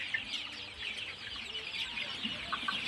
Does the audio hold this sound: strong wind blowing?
no